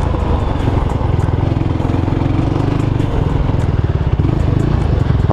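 A quad bike engine runs steadily and loudly up close while riding, a continuous throaty drone with a rapid pulsing rhythm throughout.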